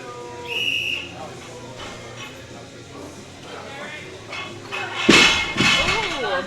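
At a strongman and weightlifting contest, a short, sharp whistle blast signals a push press and split jerk. Metallic clanks of the barbell follow, with voices and crowd noise in the background.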